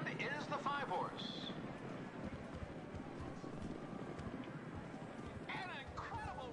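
Fast hoofbeats of galloping horses in a PS5 video game race rumble steadily under an excited commentator calling the action, with crowd-like noise in the background.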